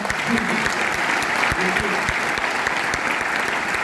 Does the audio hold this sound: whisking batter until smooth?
no